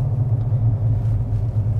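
Steady low engine rumble of a 2023 Ford Ranger Raptor pickup towing a Jayco Crosstrak camper downhill under heavy braking, with continuous road noise and no distinct squeal or other events.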